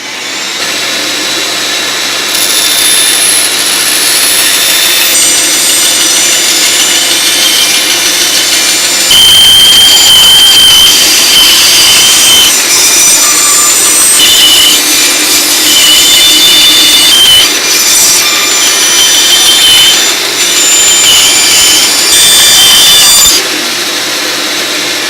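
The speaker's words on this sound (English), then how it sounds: "I'm going to turn on all my dust collection, which is going to make a lot of noise." Loud, steady roar of workshop dust collectors running continuously while a bandsaw cuts a wooden router pattern, the combined noise rising after the first few seconds and holding for over ten seconds before dropping away.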